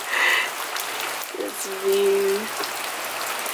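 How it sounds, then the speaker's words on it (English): Steady rain pattering outside a balcony overlooking a Costa Rican rainforest, a soft constant hiss with a brief tonal whistle and a short spoken word over it. "It's raining right now."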